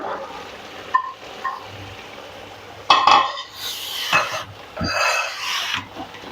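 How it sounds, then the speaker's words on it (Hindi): Carrots tipped into a pot of softened peas and stirred, with scraping, clattering utensil and pot sounds coming in bursts, including a sharp knock near the middle, over a low kitchen hum. "अब हम इसमें अपने डाल देंगे गाजरें"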